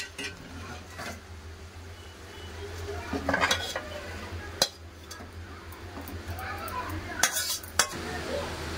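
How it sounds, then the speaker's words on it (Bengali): After the gas is turned off, potato and ridge gourd curry is poured from the pan into a serving dish. Soft scraping runs throughout, with a few sharp metallic clinks of spoon on pot and no talk. "এবার গ্যাস বন্ধ করে তরকারিটা ঢেলে নেবো"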